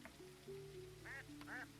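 Ducks in the video game Teddy's Haven give two short, faint quacks in quick succession over a steady ambient hum and tones.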